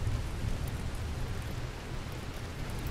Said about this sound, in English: it's starting to rain already